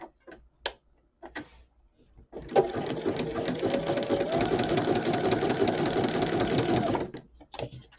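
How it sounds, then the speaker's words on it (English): A sewing machine runs a zigzag stitch along the edge of fabric in a steady, close, mechanical whir lasting several seconds, with a few short clicks and handling noises before and after. "And go back to zigzag stitch."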